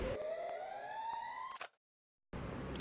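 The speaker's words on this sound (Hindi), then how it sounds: "सायरन क्यों बजा?" A loud electronic siren in the game Garena Free Fire wails in a rising tone for about a second and a half, cuts off abruptly into silence, then noisy sound returns.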